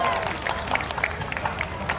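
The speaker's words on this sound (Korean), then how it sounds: "박수 함성 한번 주세요" Applause and cheering from an outdoor rock festival crowd on a rainy day, dense clapping mixed with scattered shouts and crowd noise that holds steady and moderately loud throughout.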